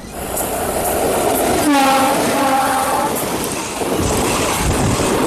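A Nanded–Pune express train runs steadily with a loud, continuous rolling rumble, and a brief drawn-out horn-like tone rises over it near the middle.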